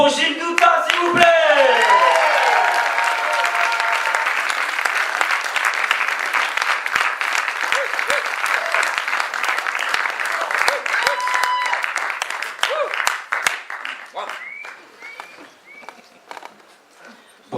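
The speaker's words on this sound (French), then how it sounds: "messieurs, dames, on applaudit super fort" Loud, sustained applause from a slam poetry audience in Paris welcomes a poet, with whoops and cheers on top; it thins out toward the end while a voice starts talking.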